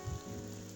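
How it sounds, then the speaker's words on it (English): Heavy rain pours down outdoors, a dense, steady hiss of drops striking surfaces, soft and continuous over a brief moment with no voices. "this part is heavily raining."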